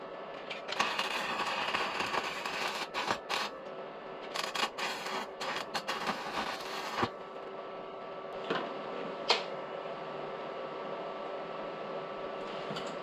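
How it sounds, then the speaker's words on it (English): A small 110 welder welds a truss onto a Dana 35 axle on a Jeep YJ, a steady crackling buzz of the arc with sharp pops and spatter bursts, close up and continuous. "I'll pop out the little 110 welder and we'll weld that"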